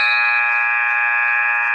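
Game-end buzzer at a girls' high school basketball game, a loud sustained electronic tone holding steady and unbroken from start to finish.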